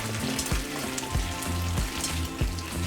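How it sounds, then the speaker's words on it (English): Syrup spiced with cloves and cinnamon sticks is poured through a strainer for capirotada, giving a steady close splattering hiss like light rain, with soft low thumps about every half second. "now I'm just gonna strain my syrup"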